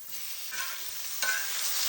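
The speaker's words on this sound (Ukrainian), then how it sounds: "на сковорідку відправляємо сало" Pork fat (salo) sizzles steadily in a hot frying pan, a continuous crackling hiss that swells briefly twice as the pieces are stirred, with no talking.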